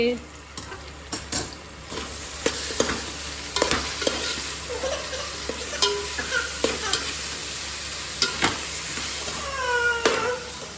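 Cabbage stir-fried in a pan for Chinese bhel, with a steady sizzle broken by repeated sharp scrapes and clatters of the spatula at close range, and no voices.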